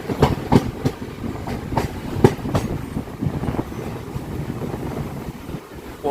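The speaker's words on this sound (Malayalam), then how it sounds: "ട്രെയിൻ ഇപ്പോൾ പോത്തന്നൂർ ജംഗ്ഷൻ റെയിൽവേ സ്റ്റേഷനിലേക്ക് എത്തിയിരിക്കുകയാണ്." West Coast Superfast train pulling into Pothanur Junction, with steady rolling rumble and repeated sharp clickety-clack wheel beats over rail joints, fairly close and loud with no talk.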